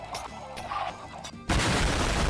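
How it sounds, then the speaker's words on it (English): Minecraft chickens packed into a farm pen, their clucks overlapping in a dense, loud clamor that swells abruptly into a continuous noisy burst halfway through. "I think we have enough chickens in here"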